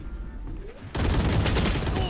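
Vandal rifle fire rings out during a competitive Valorant match, where quieter game sounds give way to a loud, sustained burst of dense rapid gunfire.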